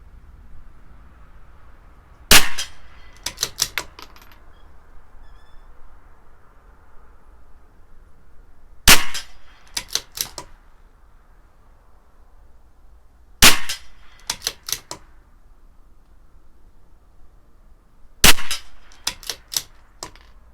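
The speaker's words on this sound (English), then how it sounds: "I'm going to go up an inch and over to the right an inch, and we'll shoot another group there" A CZ 457 LRP rimfire rifle with an IBI barrel fires a group at 50 yards during a CCI pistol match competition: four bursts of sharp cracks, each a lead shot followed by three or four quicker shots, spaced across quiet pauses.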